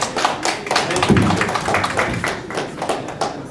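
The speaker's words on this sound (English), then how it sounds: "This was a full house, and I want to give you an applause" Crowd applause at a full-house town hall meeting, a dense patter of many hands clapping steadily for a few seconds, fairly close.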